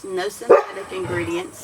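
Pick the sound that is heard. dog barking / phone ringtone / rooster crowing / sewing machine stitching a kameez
dog barking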